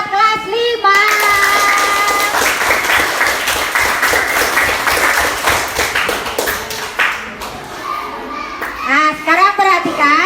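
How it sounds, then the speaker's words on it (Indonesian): Fifth-grade class clapping together during an economics lesson, with uneven, lively hand claps mixed with children's chatter and shouts throughout. "Tepuk tangan sekali lagi buat kelas 5."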